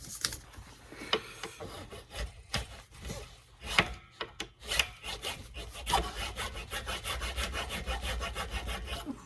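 Sharp fine-toothed saws cut string slots in a guitar nut, giving close, quiet, rhythmic rasping back-and-forth strokes in uneven bursts that become a faster, steady sawing toward the end.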